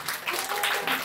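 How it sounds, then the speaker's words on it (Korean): Audience applause at a lecture event, a brief, even wash of clapping from a crowd, moderately loud and continuous without speech. "박수 쳐주세요"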